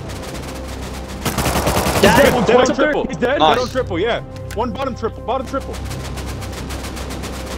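Gunfire from an L9 rifle in the console version of Rust cracks out in a cluster of sharp, loud shots, with a heavy burst early on and scattered reports afterward, while players talk over it.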